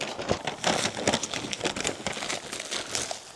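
Two plastic bags crinkle and rustle close by while being handled, a dense run of sharp crackling bursts with no talking.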